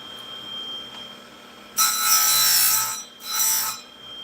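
Chainsaw chains for top-handle climbing saws being sharpened, two close, bright grinding bursts, the first longer and the second shorter, over a faint steady hum.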